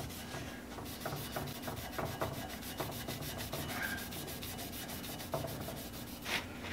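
A Scotch-Brite pad, used with D40, scrubs metal parts of a 1975 Hardinge HC chucker lathe, producing steady rhythmic rubbing strokes, close and fairly quiet, repeated many times with a gritty, abrasive texture.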